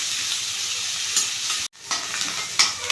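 Onions sautéing in a pan with salt added, a steady close sizzle broken by brief stirring scrapes and a short drop in the noise partway through.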